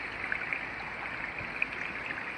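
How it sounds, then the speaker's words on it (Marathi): Spring water trickling and splashing down over stones near a riverside pond, a steady continuous hiss of falling water with small splashes, moderately close and without voices. "हे बघा कसं पाणी धाबा धाबा पडतंय"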